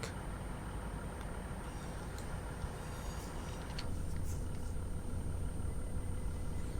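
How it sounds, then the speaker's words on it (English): A train rolling into a station in Train Sim 2020 on the Midland Mainline route, a steady low engine rumble with a faint high whine above, growing slightly louder partway through, with no voices over it. "I had another train coming in."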